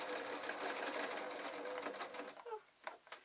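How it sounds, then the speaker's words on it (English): A home sewing machine stitches through thick, layered fabric in a steady, close, continuous whir, then slows and stutters to a stop with a few short clicks near the end. "you sew them off the sewing machine"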